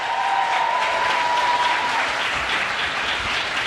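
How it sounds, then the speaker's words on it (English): A large audience at a Vice President Harris economic opportunity event applauds as a speaker walks off the stage, a loud, dense, continuous wash of clapping that holds steady from start to finish. "Can we please applaud Desmond as he walks off the stage?"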